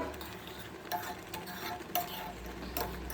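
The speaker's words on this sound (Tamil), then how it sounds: "பாருங்கள் நல்லா கொதிச்சிட்ருக்கு" A thick mixture bubbles and plops in a pan, with soft sizzling and occasional louder pops, close by and steady, with no talking.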